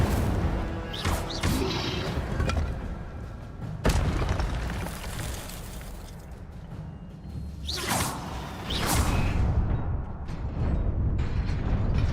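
Incendio fire spell cast in Hogwarts Legacy, a string of whooshing fiery bursts and heavy booms layered over dense game sound, with sharp loud hits recurring through the passage.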